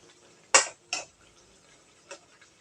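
A ladle or spoon clinks against a metal pot while cooked gourd in mustard and poppy seed paste is served into a bowl: two sharp, close knocks, then a softer tap after a pause.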